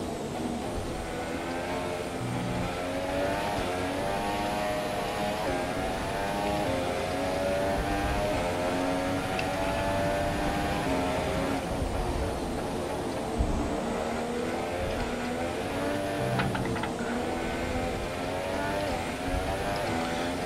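A Formula 1 car engine in the racing game F1 2017, driven in a Williams during a career race in China or Spain: a steady high-pitched whine with shifting tones runs throughout, smooth and continuous.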